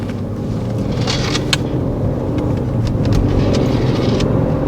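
A 2003 Mercedes S600 W220 with a twin-turbo V12 drives along, heard from inside as a steady low engine and road rumble with a few faint clicks and knocks, no talking.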